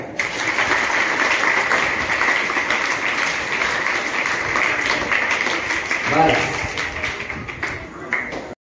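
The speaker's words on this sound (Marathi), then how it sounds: "सर्वांनी महाराजांचं एकदा स्वागत म्हणून टाळ्या वाजवूया." Audience at a temple event for Gokulashtami claps to welcome Maharaj after a Ramayana reading, producing dense, sustained applause that carries on loudly and evenly for several seconds.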